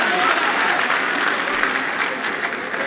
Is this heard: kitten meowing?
no